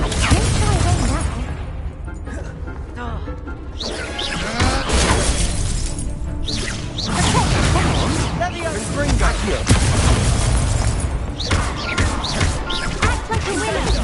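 Confringo blasting spells explode during combat in Hogwarts Legacy, loud repeated crashing and shattering bursts layered densely over a busy fight, with talk running through the whole stretch.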